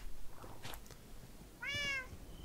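Cats meowing in Minecraft, with a few faint short sounds first and then one clear, drawn-out game meow near the end.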